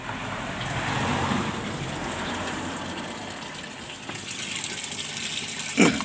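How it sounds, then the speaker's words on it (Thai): Water gushes through the inlet valve into the tub of a Samsung washing machine, a steady rushing flow at close range that softens slightly midway, ending with a short knock. "น้ำไหลเลยนะครับ"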